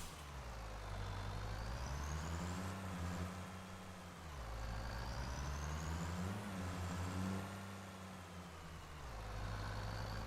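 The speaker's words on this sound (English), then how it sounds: "Hop back in the truck, and away we go again." A farm truck in a farming video game drives along with a steady, low engine drone that rises and falls in pitch through repeated gear cycles, alone and fairly quiet.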